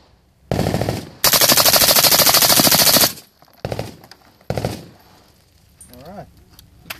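An automatic rifle fires outdoors: a short full-auto burst, then a long sustained stream of rapid shots, followed by two brief bursts, loud and close, with a voice speaking near the end.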